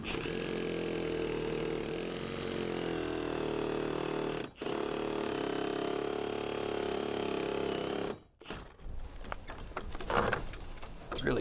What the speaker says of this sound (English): Now I can use the reciprocating saw